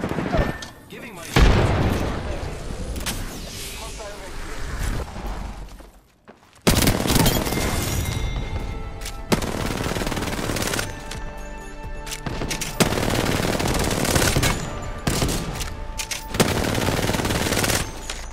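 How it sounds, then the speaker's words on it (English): Enemy gunfire in the Apex Legends battle royale shooter, bursts of rapid automatic shots and loud booms coming in dense waves with brief pauses, mixed with game effects and a voice talking over the action. "The enemies are shooting."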